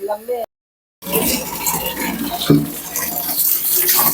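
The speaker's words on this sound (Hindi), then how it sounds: "ये बाल्टी इसलिए भरनी पड़ती है" Tap water pours steadily into a bucket, a dense continuous splashing rush that starts after a short silence, with a brief clink partway through; a voice is heard briefly at the start.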